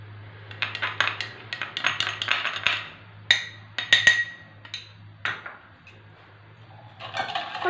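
A utensil scrapes and clinks against a pot in quick, irregular strokes, with occasional sharper knocks and a low steady hum beneath.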